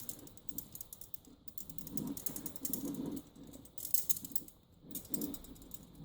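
A ratchet clicks in quick bursts as parts are tightened evenly on both sides during an Austin Healey restoration. The clicks are close and fairly quiet, with short pauses between runs, and no one speaks.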